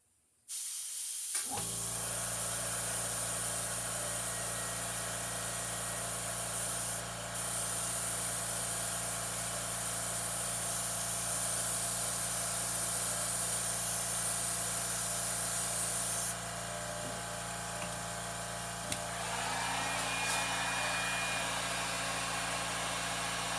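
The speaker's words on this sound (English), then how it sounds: "I got some air leaks" An airbrush sprays paint onto a fishing lure with a steady, continuous hiss of leaking air and a low compressor hum, close and constant after a brief silent start.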